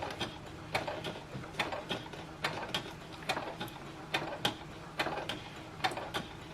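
A sewing machine stitches a COVID-19 mask made with Hydroknit and a HEPA filter, turning at a slow pace: a steady low mechanical whir broken by a run of sharp, evenly spaced clicks, close and alone.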